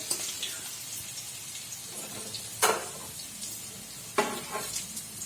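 Potatoes fry in a pan with a soft, continuous sizzle, punctuated by two sharper crackling bursts and a few light stirring scrapes. The sound is close but fairly quiet, and no one speaks.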